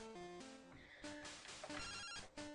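A telephone rings in a Pokémon video game as a chirpy electronic ringtone of stepped beeping tones, repeated in short bursts, clear and alone.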